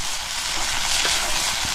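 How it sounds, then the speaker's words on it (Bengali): Fish balls fry in a pan over an outdoor fire on a remote island, a dense, loud, continuous sizzle with no speech. "আমার এদিকে ভাজা আমি চড়াই দিছি"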